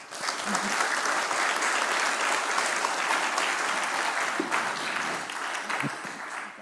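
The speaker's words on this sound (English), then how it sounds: "Let's give Hannah another round of applause." Audience applause at a live demo conference fills the room steadily with dense clapping, holding at an even level throughout without letting up.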